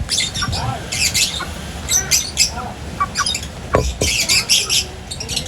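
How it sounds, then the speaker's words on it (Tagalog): Racing pigeons in a loft make busy squawks, coos and fluttering wing sounds, with scattered chirps and pecking patter, close by and continuous, and no one talking. "Ayan mga kalapatids."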